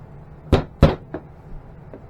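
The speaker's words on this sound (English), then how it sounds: "And you're going to knock this in until it's just flush." Metal pin tapped into a T4E magazine, heard as two firm knocks close together followed by two fainter taps, close and otherwise quiet.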